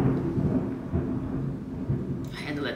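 Deep rolling thunder from a storm, a continuous low rumble that swells and fades over a few seconds, with a faint patter of rain at the end and no talking.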